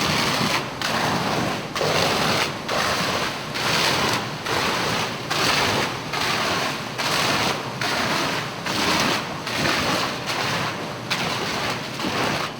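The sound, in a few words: fire department hose stream spraying a fire-rated gypsum wall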